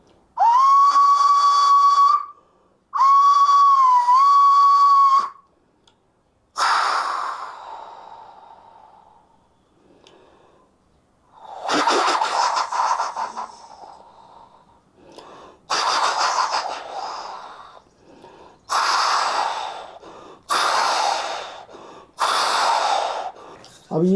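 A voice imitates a steam train, first with two long whistle tones, then a series of breathy puffing chuffs as the train starts, loud and close with short pauses between bursts.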